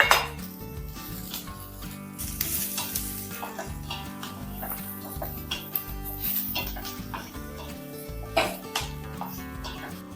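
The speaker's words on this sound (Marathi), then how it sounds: "खोबरं घातल्यानंतर सर्व मिश्रण आपण परतून घ्यायचं" Grated coconut and garlic roast in a pan, with a steady sizzle under frequent scraping and clinking of a spoon against the metal as the mixture is stirred.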